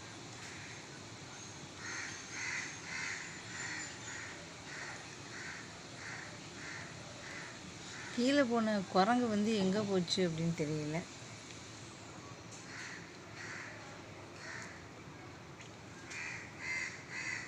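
Crows caw repeatedly in steady bursts throughout, moderately distant outdoors, while someone talks over them for a few seconds midway.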